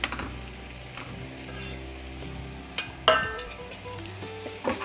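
Paneer cubes with capsicum and onion sizzle gently in a pan as they are mixed, a soft steady frying hiss with occasional sharp clinks and scrapes of the utensil against the pan.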